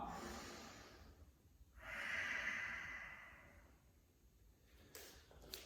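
Slow, audible breathing during a vinyasa yoga flow, one long drawn breath swelling and fading over a few seconds in a quiet room, close and soft, with a faint rustle at the end; no talking.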